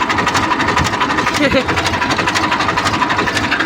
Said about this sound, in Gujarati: આમ ટ્રેક્ટરનું વાઇબ્રેશન જોજો